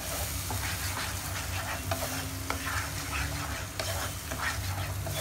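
Turmeric and Kashmiri red chili powder are stirred into a fish curry in a pan: a steady, close sizzle with soft scraping of the spoon throughout, and no voices.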